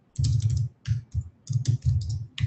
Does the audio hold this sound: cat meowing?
no